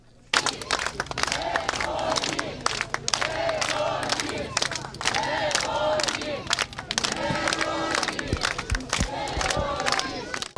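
Crowd in Zhytomyr welcoming returning soldiers of the 90th battalion, 81st air assault brigade, cheering and clapping loudly with shouts and whistles throughout, with voices mixed in.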